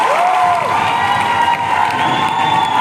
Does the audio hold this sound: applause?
yes